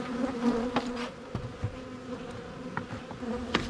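Honey bees buzz around opened beehives, with a steady hum and individual bees darting past close to the listener, some passes rising briefly louder; no one speaks.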